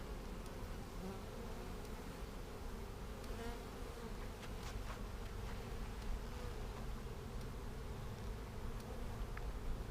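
Honeybees buzzing around a brood frame during a hive inspection, a soft steady hum of many bees close by with brief sharper passes of individual bees, no voices.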